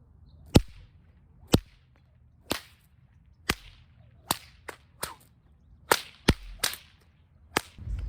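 Eleven sharp whip cracks snap out one by one over about eight seconds, spaced irregularly with short doublets near the end, each loud and close against a quiet background, a whipcracking combo drill with no talking.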